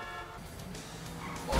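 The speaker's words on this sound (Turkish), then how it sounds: "Ne basıyorsun kornaya?" Car horn honking in a racing video game, a loud burst near the end over steady engine and game noise.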